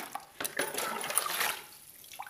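Plain water poured by mug into a container of liquid fertilizer made from soaked cow-dung cakes, a steady splashing pour lasting about a second and a half before tapering off, close by and moderately loud.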